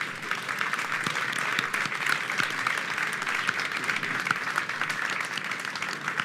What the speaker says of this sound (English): So please put a round of applause together for them.